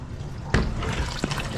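Water pours into a washing machine drum in a continuous rushing flow, with a sharper splash or clunk partway through; no speech.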